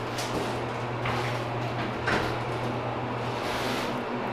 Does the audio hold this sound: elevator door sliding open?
yes